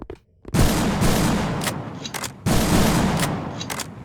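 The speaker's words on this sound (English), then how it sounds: "So the hunter shotgun was half finished, and that one's now also finished" Two heavy shotgun blasts from the hunter shotgun in the video game Project Speedkills, each loud, booming report trailing off in a long decay, the second arriving about two seconds after the first.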